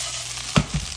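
Potatoes brown in a covered pan with a soft, steady sizzle, broken by two brief louder clunks of the lid or pan being moved.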